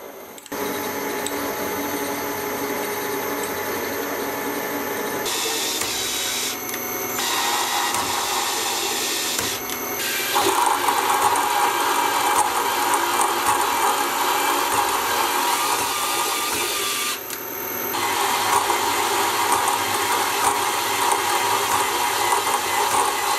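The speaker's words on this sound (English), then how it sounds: "The end that I'm machining currently will go into the spindle bore, so in order to lock it in place, I'll have to cut a taper in the end." Steady metal cutting on a milling machine as a taper is machined into the end of a shaft that fits a spindle bore, a continuous loud mechanical whine that shifts in tone a few times, with no talking.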